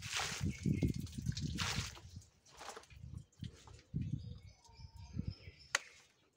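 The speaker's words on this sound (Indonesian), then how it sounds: "seperti ini kita siram air dulu" Water pouring and splashing onto soil around sweet potato plants in bursts, with pauses between, close by; a faint bird chirps in the background.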